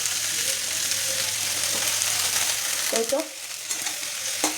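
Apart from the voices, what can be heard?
onions frying in pan as chopped cabbage is added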